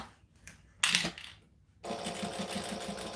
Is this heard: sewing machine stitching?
yes